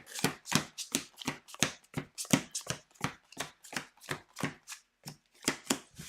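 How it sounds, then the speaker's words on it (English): A deck of game cards is shuffled by hand, giving a steady run of crisp riffle bursts and flicks at close range, with brief pauses between passes and no talk. "I'm going to just shuffle these up a little bit to make sure that, you know, it's mostly shuffled properly."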